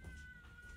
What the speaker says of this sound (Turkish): Kedilermiş ya.